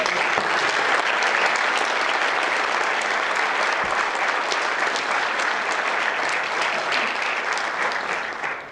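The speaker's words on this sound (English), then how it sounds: "Give her another round of applause." Sustained, loud applause from the audience at an annual recognition ceremony, a dense wash of many hands clapping steadily for several seconds before beginning to fade at the end.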